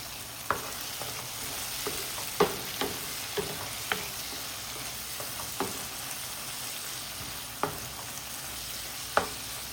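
Fish frying in a pan sizzles steadily at a moderate level, broken by sharp intermittent pops and crackles of oil every second or so.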